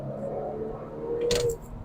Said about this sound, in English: Rev match, downshift.